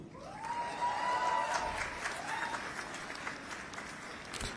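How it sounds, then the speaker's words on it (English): Applause and scattered cheers from the audience at a medical college convocation ceremony, moderately loud at first and thinning out, with a faint voice and brief tonal sounds over the clapping. "Keep clapping and cheer up also."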